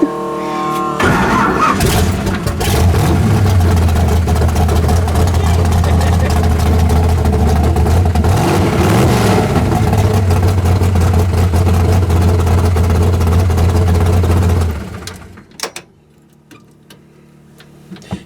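An old running car with a faulty clutch rumbles loudly with a low, steady engine drone and rattling for about fifteen seconds before it cuts out, leaving faint background noise.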